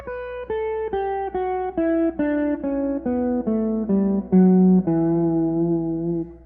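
A guitar steps down a scale, one clear plucked note at a time at an even pace, each note ringing briefly before the next.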